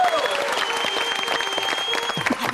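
Audience applause at a staged wrestling competition, a dense burst of clapping with a bright tone ringing over it, loud and continuous.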